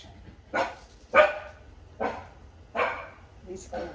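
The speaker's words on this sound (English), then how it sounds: "In the last couple of weeks, he started barking at things he never did before." A dog barks five times in steady, evenly spaced sharp barks, close and clear, over a quiet indoor background.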